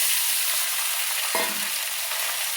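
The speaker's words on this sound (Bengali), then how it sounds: "একটু ভালো করে নেড়ে ফেড়ে তারপরে দুধ দিয়ে দেবো" Sago stirred into hot ghee with a bay leaf in a pan, a steady broadband sizzle with one brief scrape of the spoon partway through, close and continuous with no talking.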